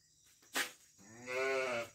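A sheep on a rural farm lets out a wavering, nasal bleat lasting under a second, close and moderately loud, preceded by a short thump and a faint background hum.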